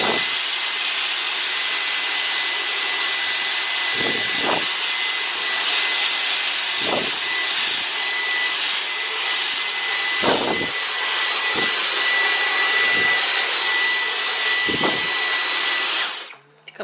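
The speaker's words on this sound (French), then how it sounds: "ma technique pour enlever la farine, l'aspirateur." A vacuum cleaner runs steadily and loudly at close range while sucking up spilled icing sugar during kitchen cleanup after baking, with a constant whine and a few brief bumps as the nozzle moves, cutting off at the end.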